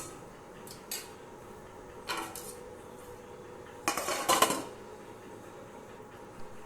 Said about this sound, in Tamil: நல்லா கலந்து விட்டுட்டு அடுத்ததாக ஒரு வாட்டி நம்ம மூடி போட்டு வச்சிடலாம்.